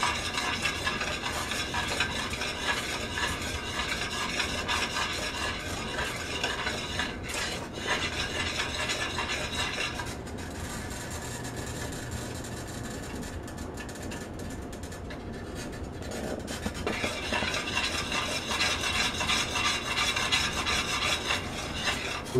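Bacon brittle mixture of caramelizing sugar stirred continually in a pan, a constant close rasping scrape of the spoon over a soft bubbling sizzle, steady and unbroken, with no voices.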